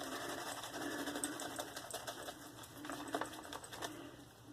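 PAA Doppelganger Grey Label shaving soap is worked into a lather, a quiet rapid rhythmic whirring and clicking that continues steadily for several seconds.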